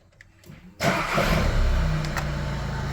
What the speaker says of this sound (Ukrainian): Все, включили і заводимо автомобіль.